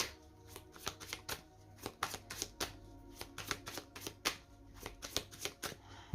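A deck of tarot cards being cut and shuffled by hand: quiet, crisp riffling snaps and card slaps in an irregular, steady series, close up with no talking.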